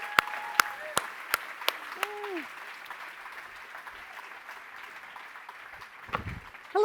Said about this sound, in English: let's have a round of applause for you guys